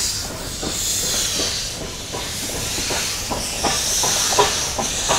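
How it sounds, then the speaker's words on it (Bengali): A broad gauge train rolls slowly toward the car shed at an empty Mettupalayam station, a loud steady hiss with a faint rhythmic clickety-clack of wheels over rail joints. "ট্রেনটা যাচ্ছে কারশেডে"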